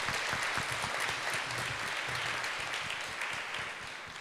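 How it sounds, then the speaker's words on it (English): A large audience at an alumni leadership conference applauds keynote speaker Jim Stengel: dense, steady, full-room clapping that holds strong throughout, easing only slightly at the very end. "let's have another round of applause for Jim Stengel"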